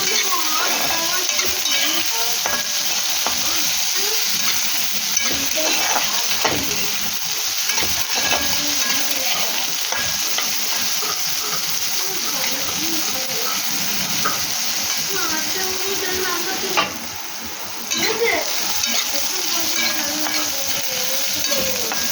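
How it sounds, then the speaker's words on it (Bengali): Chopped brinjal frying in an oiled pan while being stirred, a continuous close sizzle with scraping and stirring clatter throughout and a brief dip in the noise near the end. "এবার বেগুনটাকে নাড়াবো, ভালো করে ভেজে নেবো।"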